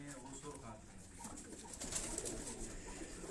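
A racing pigeon coos softly in low rolling phrases nearby, partly under a voice talking.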